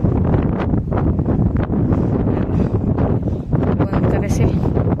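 Wind buffets the microphone across an open farm field, a continuous low roaring rumble with gusty surges that holds steady and loud throughout.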